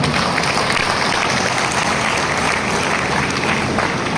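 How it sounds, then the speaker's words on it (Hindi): Loud, dense applause from a large crowd at a network-marketing stage program, sustained clapping filling the hall without letup. "एक बार आप लोग इनके लिए ताली बजाओ"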